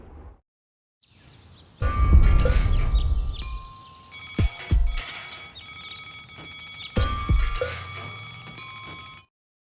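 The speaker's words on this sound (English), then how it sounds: "Oh, the blast signal." A blaring signal alarm in the video game Deponia, sounding as loud sustained ringing tones that start, break off briefly, and resume with clanging hits underneath.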